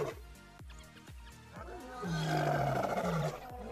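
A lion in the video game Wild Savannah gives a series of deep, pulsing grunts that build into a loud sustained roar, with no talk over it.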